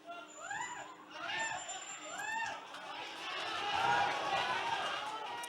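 Crowd noise from a football stadium during a Champions League match, a broad murmur of chatter that swells louder toward the end beneath a commentator's talk.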